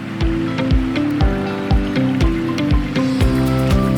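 Water of the Río Turón near El Burgo, Málaga, flows over stones, close and steady, with rhythmic gurgling splashes and bubbling pulses repeating throughout, and no voices.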